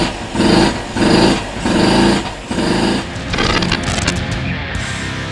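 A Honda Elite scooter's small engine runs on its own fuel, its close, buzzy note rising and falling in four regular revving surges before settling into a rougher, uneven idle.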